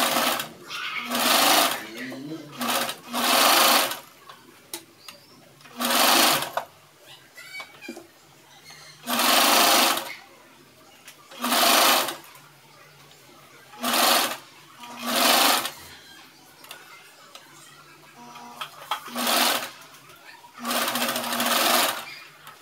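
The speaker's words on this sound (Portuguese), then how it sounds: "Aí eu vou costurar nessa cava esse viés aqui." A sewing machine stitches bias binding into a blouse sleeve armhole in short, loud bursts of whirring, roughly a dozen runs separated by brief pauses.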